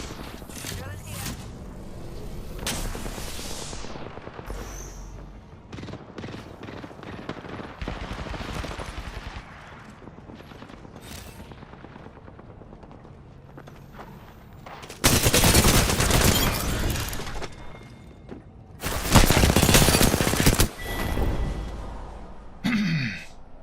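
Apex Legends gunfire: scattered shots and short bursts crackle through the stretch, with two loud, dense automatic volleys near the end, while a person breathes and vocalizes in between.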